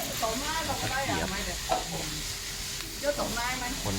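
Pad see ew noodles stir-fry in a wok over high heat with a loud sizzle and scraping tosses, while a voice talks over the cooking.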